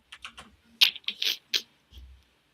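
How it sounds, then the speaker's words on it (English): A noisy computer keyboard clacking close up in a few irregular bursts of keystrokes, fairly loud, with no talk over it. "Do you want to hear my noisy keyboard?"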